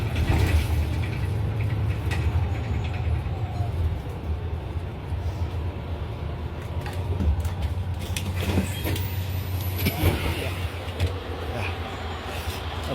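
A city bus on a morning street in Essen pulls away, its low engine rumble steady and fairly close, blending into surrounding street noise with no talking.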